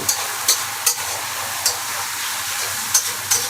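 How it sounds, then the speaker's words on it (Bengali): Vegetables frying in hot oil for vegetable noodles give a steady, close sizzle throughout, with a few sharp clicks of a spatula stirring the pan. "এই দেখুন বাগার হচ্ছে আস্তে আস্তে, কি সুন্দর কালার"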